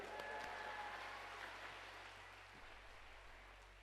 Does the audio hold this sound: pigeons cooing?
no